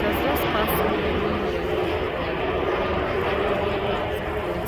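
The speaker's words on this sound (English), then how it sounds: "There is the plane. It has just passed over the" Airplane flying overhead at sunset in California, a continuous broad engine roar that stays loud and even throughout, with a voice talking over it.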